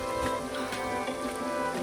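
Steady rain falling in open Australian bush wilderness of granite mountains and billabongs, a dense continuous patter with no voices.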